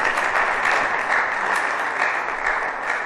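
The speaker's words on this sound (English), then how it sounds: "Please, a round of applause for her." Audience at a conference clapping steadily and loudly for a previous speaker, a dense, even wash of many hands with no voices over it.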